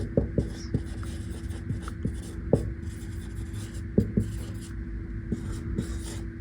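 A pen scratches out notes on a surface: steady writing strokes with sharp intermittent taps and scrapes, close and continuous over a low background hum.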